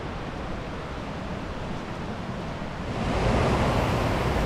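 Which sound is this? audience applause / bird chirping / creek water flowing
creek water flowing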